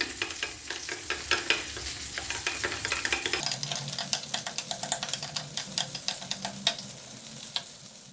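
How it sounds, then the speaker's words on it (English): Mayonnaise and mustard being stirred into a dip in a bowl, a quick run of close, soft, wet clicking strokes in a steady rhythm. "some mayonnaise, mix them properly."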